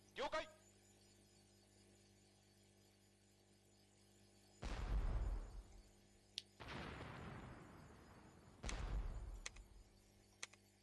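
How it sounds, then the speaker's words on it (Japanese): Naval artillery bombards an enemy airfield in a WWII Pacific strategy game, three heavy booming impacts a couple of seconds apart, each with a rumbling tail, over a steady game music background. "さあ、砲撃開始していきまーす。"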